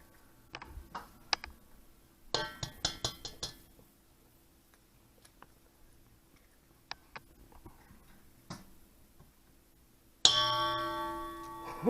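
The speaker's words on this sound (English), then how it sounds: "Those are the bells calling you in." Quiet clicks and taps fill a kitchen before a single bell strike rings out near the end, bright and sustained.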